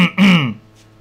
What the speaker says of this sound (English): cause I needed to clear my throat